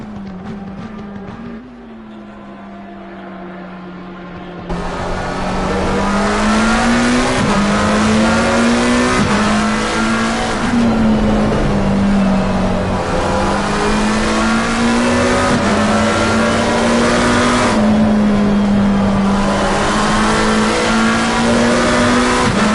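GT3 race cars lapping Laguna Seca in the ACC racing game: a loud, close engine note rises and falls through gear changes and revs, sustained throughout after a quieter opening.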